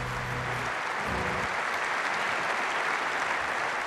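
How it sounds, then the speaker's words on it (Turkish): Strong applause fills a Turkish formal ceremony hall, dense, even clapping from a large audience sustained throughout at steady volume with no talk over it. "Kuvvetli bir alkış rica ediyoruz."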